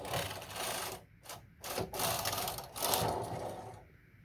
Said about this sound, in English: So when you pull your carriage from right to left, it will then go and form the stitches.